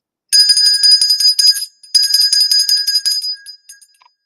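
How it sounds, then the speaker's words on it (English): A comedic sound-effect bell rings out in two bright, rapid bursts of repeated metallic dings, loud and clear with no voices over it, trailing off into a few faint taps. "that deserves the levity bell"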